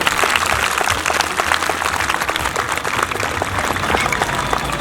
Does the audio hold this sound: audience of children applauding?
yes